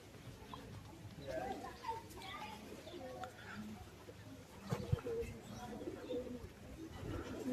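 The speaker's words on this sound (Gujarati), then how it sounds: "મંદિરની ઉપર કેવા મસ્ત પંખી બેઠા છે" Pigeons cooing from their perch atop a Hindu temple beside a garden, soft repeated coos at moderate distance, mixed with open-air background murmur and other bird calls.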